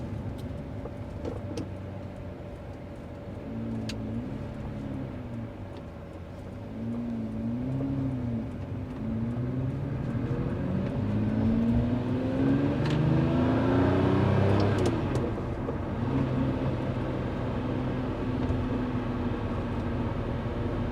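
A 2004 Lamborghini Murcielago supercar heard from inside while driving, its engine droning and rising in pitch through several swells as it accelerates, then holding a loud steady roar near the end, with no voices.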